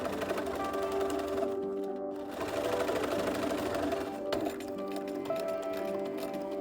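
A sewing machine runs fast and steady, laying gathering stitches along the bottom of a cloak. The whirring, clicking drive comes through close and continuous, with a brief pause partway through.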